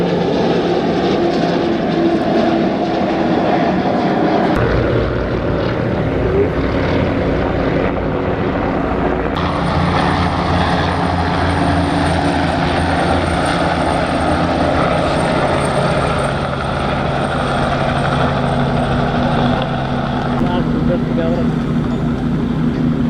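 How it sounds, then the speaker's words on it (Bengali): Five training aircraft trailing coloured smoke fly overhead at a Bangladesh Air Force air show in 2025, their loud engines making a steady roaring drone throughout while a commentator speaks over it. "আপনারা দেখতে পাচ্ছেন উইং কমান্ডার মঈনের নেতৃত্বে বর্ণিল ধোয়া ছেড়ে 5টি KW বিমানের সমন্বয়ে গঠিত একটি"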